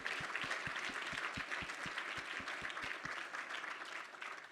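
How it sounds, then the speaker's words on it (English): An audience applauds ambassadors at a startup demo day, sustained crowd clapping with a strong rhythmic unison beat running through most of it, moderately distant. "Can we give a round of applause to all of our ambassadors?"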